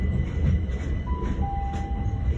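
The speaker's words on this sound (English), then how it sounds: "Currently waiting for my train in a few minutes." A train at Cannon Street station in London, with a steady low rumble of rail wagons and a thin high squeal of wheels or brakes drawing out over the noise.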